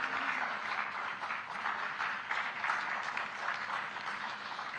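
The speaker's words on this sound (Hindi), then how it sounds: "तालियां इनके लिए बनती हैं।" A crowd at a government project-inauguration event in Panchkula claps for HDFC Bank representatives who donated hospital equipment. Moderately quiet, continuous clapping sustains for the whole stretch, with gentle swells in intensity.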